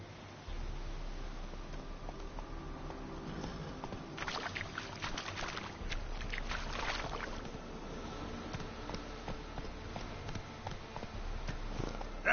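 Geralt's horse Roach gallops in The Witcher 3: Wild Hunt, a steady, rhythmic patter of hoofbeats that runs faintly and continuously for about twelve seconds.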